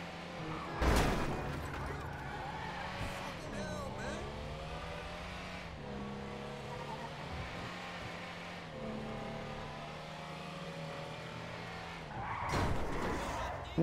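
A Lampadati Michelle GT sports car in GTA V accelerates hard, its engine note climbing and shifting through gears in a steady drone, with brief tire noise near the start and end and faint talk over it.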